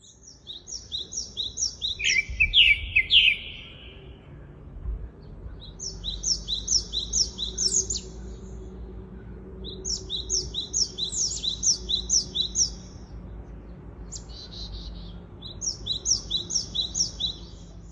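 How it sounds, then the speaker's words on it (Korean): A thrush sings in bright, repeated chirping phrases, short bursts separated by pauses over about eighteen seconds, clear and fairly close over a low, quiet outdoor background. "새소리 한번 듣고 가겠습니다."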